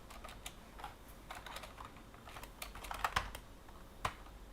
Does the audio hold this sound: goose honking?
no